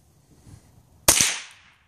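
A single sharp rifle shot fired at a target cracks out loud and close after a moment of near quiet, then trails off in a short decaying echo.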